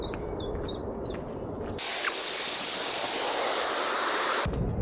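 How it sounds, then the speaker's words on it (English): A chiffchaff on a moor beside a reservoir sings a few sharp repeated notes at a distance, heard against steady wind or water noise that swells and drowns the song. "Another chiff-chaff."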